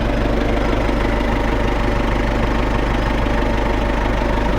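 An MTZ tractor engine runs at a steady idle on its first start after two cylinder liners were replaced, a loud, close, continuous diesel rumble with a rhythmic knock and no talking.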